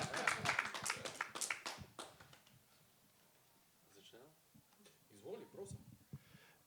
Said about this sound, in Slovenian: prosim en spontan aplavz za naša